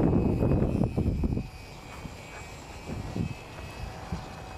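A small plane passes overhead, its engine drone loud at first and then fading into a distant hum.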